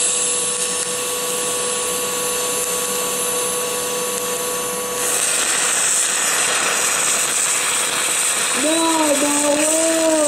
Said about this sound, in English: then you'll see what it's like to weld with no argon whatsoever